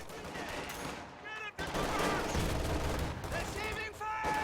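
Gunfire in a real-time strategy video game battle with riflemen and flamethrower troops: bursts of rapid shots and sharp cracks over busy battle noise, with a voice talking over it.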